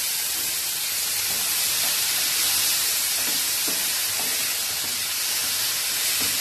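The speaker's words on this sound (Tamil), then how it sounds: "பன்னீர் ஸ்கியூப் கட் பண்ணி வச்சுருக்கேன், அதை வறுத்துக்கலாம்." Paneer cubes frying in ghee in a pan give a steady, close sizzle and hiss with faint stirring scrapes, and no one speaks.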